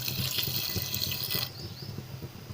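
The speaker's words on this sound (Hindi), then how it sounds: "इसमें जाएगा थोड़ा सा पानी" Water pours into a cooking pot holding daal for daal karela, a steady splashing rush for about a second and a half that then thins to a quieter trickle.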